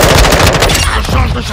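Automatic gunfire rattles loud and close in Call of Duty: Modern Warfare II, a dense stream of rapid machine-gun shots filling the whole moment with no pause.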